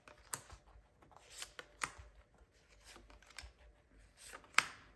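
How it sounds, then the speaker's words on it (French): Tarot cards shuffled and drawn, soft close-up riffles and crisp slaps of card stock in quick irregular bursts, quiet and intimate, with no talk over them. "On tire nos cartes."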